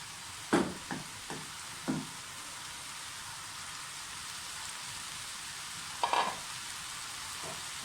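Spaghetti tossed into a frying pan with chicken and vegetables, a continuous soft sizzle broken by a few sharp clacks and scrapes of stirring near the start and again later, no talking.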